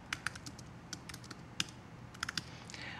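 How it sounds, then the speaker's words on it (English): Light, irregular keystrokes on a computer keyboard, close by and moderately quiet, in quick clusters with short pauses, alone with no talk. "I actually keep typing deltree"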